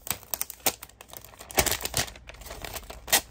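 Peeling a label off a Dollar Tree product: close, crinkly tearing and crackling in several short bursts, loud and dry, with no talking.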